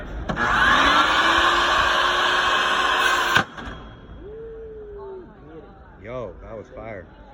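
A SawStop table saw with its blade spinning at 4,000 RPM roars loudly as a steady broadband whine for about three seconds. The roar then cuts off abruptly, followed by quieter tonal sounds and brief voices.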